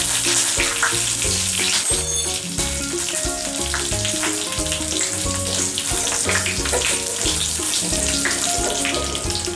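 Curry leaves hit hot oil in a pan holding popped mustard seeds and dried red chillies, tempering for vendakka pachadi, giving a loud, continuous crackling sizzle with sharp pops throughout, and no voices.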